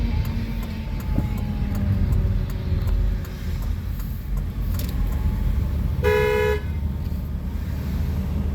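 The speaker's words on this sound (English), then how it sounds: "Someone's honking back there." A car horn honks on a street in Waldport on the Oregon coast, a short bright blast sounding about two-thirds of the way through over steady traffic rumble and passing vehicles.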